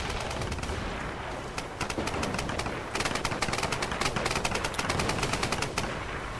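Dense gunfire rattles on all sides in a Tomb Raider multiplayer match, with rapid bursts of automatic fire and scattered shots over a constant loud game soundscape and no pauses.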